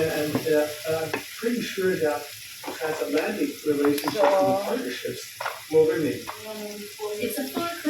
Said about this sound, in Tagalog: As usual, magigisa tayo ng ating mga sibuyas, no?